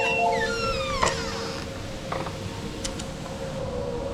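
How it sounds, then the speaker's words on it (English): A tornado siren wails steadily in the background during a monthly test in Ohio, while birds chirp and a few sharp clicks sound nearby. "Monthly tornado siren testing."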